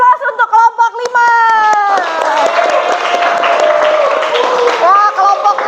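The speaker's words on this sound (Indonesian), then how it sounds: "Kita kasih aplaus untuk kelompok 5" A classroom group gives a round of applause for group 5, steady clapping that swells after the first two seconds and continues, mixed with voices and a tonal melodic sound running throughout.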